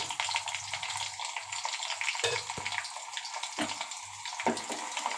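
Onions sizzling as they fry in a pan, a steady hiss throughout with occasional clinks and scrapes of stirring.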